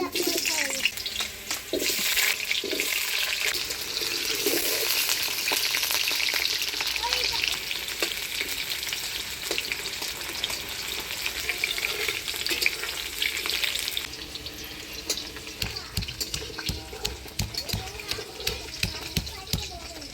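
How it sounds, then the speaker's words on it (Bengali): New potatoes frying in hot oil in a village kitchen for duck curry, with a loud, dense sizzle and crackle for about fourteen seconds, then quieter intermittent frying with clicks and stirring knocks; running water and faint voices sit in the background. "মাংসের জন্য আলুটা ভাজে নিই"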